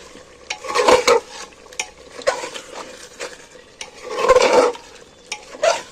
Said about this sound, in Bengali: এবার সব মশলাগুলো দিয়ে এবার আমি নাড়াচাড়া করে নিই।